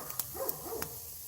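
A Great Pyrenees barks outdoors, giving two or three sharp, fairly close barks with some yelping, over quiet background noise.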